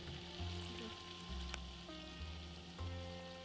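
Onions frying in a pan with ginger-garlic paste for lamb kurma, a quiet steady sizzle with a few stirring scrapes and a low background hum, no talking.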